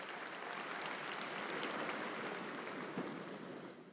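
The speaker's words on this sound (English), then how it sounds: "Let's give a round of applause to the entire McGavock faculty and staff for your support." A graduation crowd gives a round of applause for the high school faculty and staff, a steady wash of many hands clapping at a distance, fairly faint and sustained for a few seconds.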